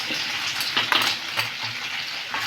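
Onion and curry leaves fry in hot oil with a soft, steady sizzle and a few light stirring scrapes, fairly quiet and brief, with no talking.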